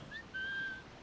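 Two short, thin whistled notes in the video game Assassin's Creed IV: Black Flag, the second held longer at a steady pitch, faint and close with little else around.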